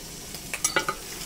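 Sausages and a burger patty topped with a slice of cheddar sizzle quietly on a grill, with a few faint crackles and pops.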